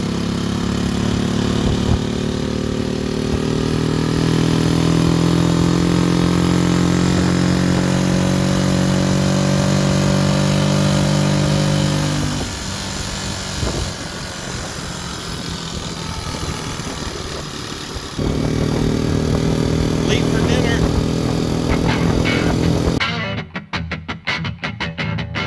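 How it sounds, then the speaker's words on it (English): A restored Honda C102 50cc motorcycle engine drones while being ridden through a neighborhood, a steady buzzing hum that shifts pitch through gear changes and dips midway before rising again, close and loud throughout. "Rip it up through the neighborhood on our sweet old bike."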